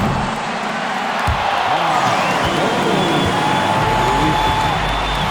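Crowd noise fills an arena in the NBA 2K25 basketball game on PS5 during a Timberwolves vs Lakers matchup, with continuous applause and cheering under a voice talking throughout.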